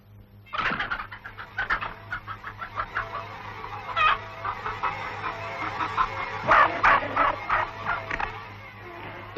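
Hens in the 1954 animated film Animal Farm cluck and squawk in an agitated flock, with overlapping rapid clucks and louder excited cackles swelling in bursts around the middle.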